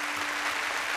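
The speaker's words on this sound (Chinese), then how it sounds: "我觉得这掌声还是送给郭尔乐吧" Applause for children playing a game on stage, brief steady clapping from a small audience filling the short moment evenly.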